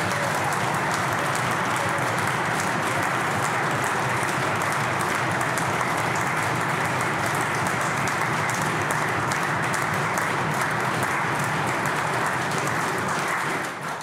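Members in the British Columbia legislature chamber applaud during a debate on housing, a thick, unbroken wash of clapping that stays steady and loud for about fourteen seconds before fading at the end.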